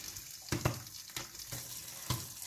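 Sweet popcorn kernels finish popping from residual heat in a pan with the gas turned off, giving a few sparse, moderately loud pops about half a second apart over a soft sizzling hiss.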